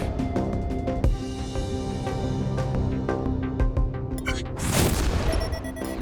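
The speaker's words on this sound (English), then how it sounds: "So I'm going to release my missile in advance." Missiles fire in Infinifactory with a dense run of booming, thudding blasts and sharp clicks, ending in a louder burst, all loud and continuous with no talking.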